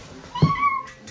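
A young girl imitates a cat's meow while pretending to be a bad kitty, one drawn-out, rising-and-falling mew voiced close up, with a brief sound trailing after.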